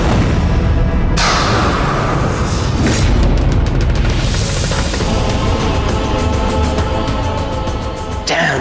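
Loud explosion sound effect from a Naagin TV drama scene: a heavy, booming blast with a sharp onset around one second, followed by a sustained roaring rumble that fills the rest of the clip, with a second burst near the end.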